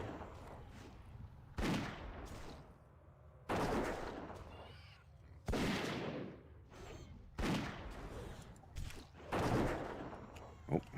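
Repeated gunshots from a hunter's ranged weapon in World of Warcraft: The Burning Crusade, a sharp loud blast roughly every two seconds over a steady game background, with no talking.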